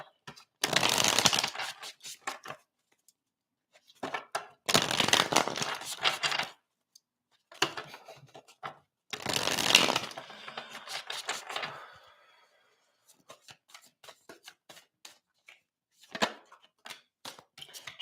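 Tarot and oracle cards are shuffled in repeated bursts of crisp riffling and flicking, close and fairly loud, separated by short quiet pauses.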